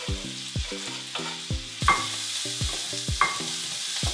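Onions, garlic and chillies are stirred through hot oil in a pan for a creamy Cajun pasta. A steady close sizzle runs under repeated scraping stirs roughly every half second, with no voices.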